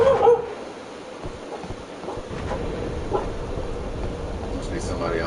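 A small female dog barks and whimpers indoors, with yips scattered over steady background noise and a person talking over it.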